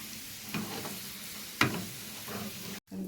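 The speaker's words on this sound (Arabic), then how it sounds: "معلقتين توم، معلقة زبدة، اه ونشوح." Garlic and butter sautéing in a pan give a soft continuous sizzle with a couple of sharper stirring knocks, fairly quiet, ending in a brief cut.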